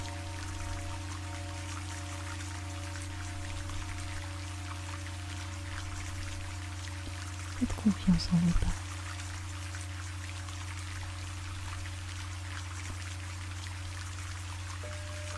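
Heavy downpour of rain as a steady, unbroken wash of hiss filling the whole clip, with a low sustained drone beneath it and a short burst of spoken voice near the middle.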